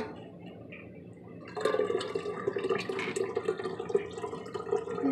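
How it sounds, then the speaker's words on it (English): A tap turns on and water streams steadily, splashing and filling a teapot nearby in a camper, with the pitch shifting slightly as it fills. "Let's get some water here"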